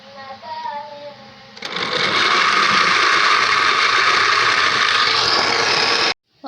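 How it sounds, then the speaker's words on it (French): After a short stretch of speech, a blender whirs loudly and steadily for several seconds while it purées garlic, onion, tomato, pepper and ginseng for a fish broth, then stops abruptly. "j'ai fini de tout mixer"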